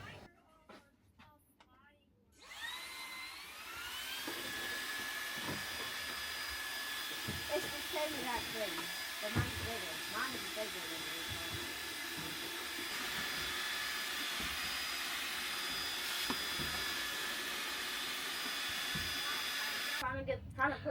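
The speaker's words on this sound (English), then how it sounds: "I'm going to go ahead and take the vacuum and get what I can out of them." Vacuum cleaner sucking dirt from dirty air conditioner coils on a bus, a loud steady whining roar that starts after a short pause and runs continuously, with a voice briefly heard at the start and end.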